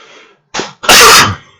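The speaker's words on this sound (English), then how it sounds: "thought I was doing all right for the first half hour without a cough, but not so much" A single loud, explosive cough from a person close to the mic during a crazyhouse chess tournament stream, preceded by a short sharp intake and trailing off quickly.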